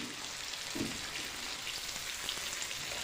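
Onion and ginger-garlic paste fry in oil with cumin, bay leaf, chilli and cloves in a pan, giving a steady, close, hissing sizzle with no one speaking.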